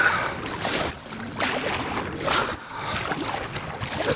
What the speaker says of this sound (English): That's a crazy headwind.